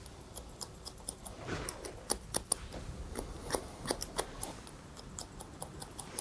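Barber's scissors snipping hair during a short back and sides cut, a quick irregular series of faint, crisp close-up clicks over a quiet background hiss.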